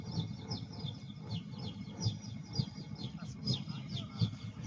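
A person imitates a bird with the voice, making quick high chirps in a steady repeating series over a low background rumble.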